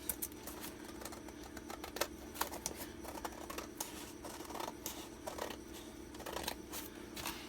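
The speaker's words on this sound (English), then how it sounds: "I'm just going to cut along this top edge and just cut that completely off" Scissors cutting paper for an envelope flip journal, a series of crisp snipping strokes in an irregular rhythm, close and fairly quiet with no talking.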